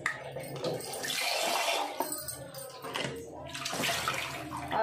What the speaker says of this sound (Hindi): इसको मैं अच्छे से धो लेती हूँ क्योंकि कीड़े मकोड़े सब रहते होंगे इसमें